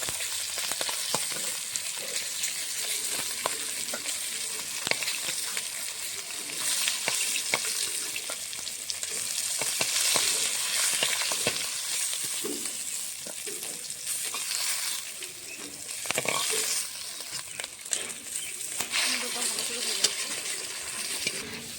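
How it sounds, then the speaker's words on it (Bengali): Fish frying in oil until reddish-brown, an ongoing crackling sizzle close by with frequent spatula turns and clinks, steady in level throughout. "মাছটা লাল লাল করে ভেজে নিচ্ছি, নামিয়ে নেব।"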